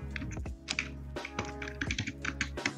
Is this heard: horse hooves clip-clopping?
no